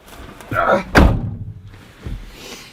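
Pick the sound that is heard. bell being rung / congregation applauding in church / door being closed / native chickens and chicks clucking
door being closed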